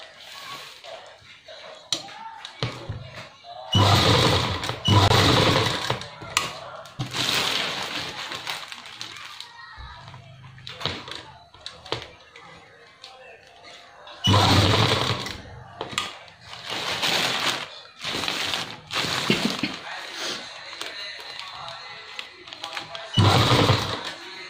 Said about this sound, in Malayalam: ഇതുപോലെ ഒരു ഇഞ്ച് ഉള്ളിലോട്ട് വെച്ചിട്ട് ഇതിൻ്റെ ഒരു ഇഞ്ച് ഇപ്പുറത്തേക്കായിട്ട് ഒന്ന് സ്റ്റിച്ച് ചെയ്ത് കൊടുക്കുക.